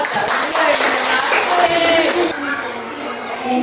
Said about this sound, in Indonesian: Tepuk tangan dulu untuk satu.